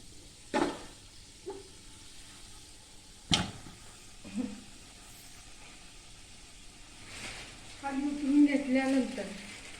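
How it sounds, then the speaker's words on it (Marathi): Garlic roasting in a pan on a gas stove for spicy Kolhapuri bhadang: a soft, quiet sizzle broken by a few sharp clinks and scrapes of stirring, swelling into a busier frying crackle near the end. "हा बघा लसूण आता आपला भाजत आलेला आहे"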